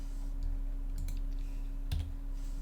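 Computer keyboard typing during video game play: a few sparse, faint key clicks over a low steady hum.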